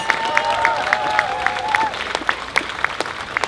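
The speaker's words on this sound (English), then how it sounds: "Give him a round of applause." A rally crowd breaks into applause, a burst of clapping that thins into scattered individual claps over a few seconds, with a faint voice underneath.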